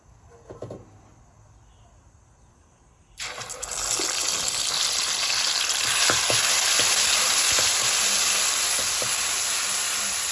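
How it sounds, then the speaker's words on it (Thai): After a few quiet seconds, a sudden loud sizzle bursts up as a little oil goes into a hot pan, continuing as a steady crackling hiss with occasional pops. "ตอนนี้กระทะเราร้อน แล้วนะครับ เราก็ เอาน้ำมันใส่ ลง ไป ครับ"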